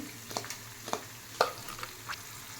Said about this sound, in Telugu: ఇవన్నీ పండుగ అయినాక ఫ్రై చేసుకోవాలండి మంచిగా కలుపుకుంటూ